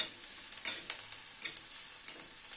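Garlic, onion and green chilies frying together in a pan for egg Schezwan curry, a bright continuous hiss with a few sharp spits and spatula stirs, close and fairly quiet, no voices.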